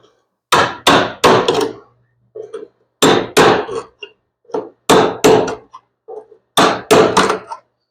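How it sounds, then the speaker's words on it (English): A Snap-on panel cutting tool is struck in bursts of sharp metallic taps while cutting the rear body panel of a 1979 work truck, close and loud, with short clusters of hits separated by brief pauses. "it's made so you can stick it in through and tap on this edge for cutting the panel there and there"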